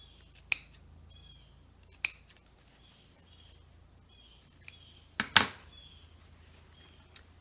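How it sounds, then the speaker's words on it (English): Scissors snip apart fabric quilt squares along a drawn line for a weathervane scrap block, giving sharp isolated cuts spaced a second or more apart, with a quick double snip near the end, close and clear over a quiet room. "And then what I'm going to do is cut them apart on the drawn line."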